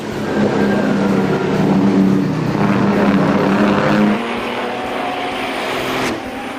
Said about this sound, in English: imagine those big rigs jockeying for position as they thunder around the turns of a racetrack